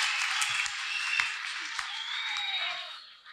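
An audience claps for Jesus Christ, a short burst of scattered hand claps mixed with a raised, ringing voice, fading out near the end.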